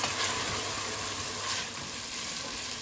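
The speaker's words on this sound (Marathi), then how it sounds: "टोमॅटो घालया. सुद्दां बरो मिक्स कर. मातशें भाजून हाडया आमी." Onion and tomato fry in a pot for one-pot chicken rice, a steady close sizzle with soft hiss running throughout, no voices.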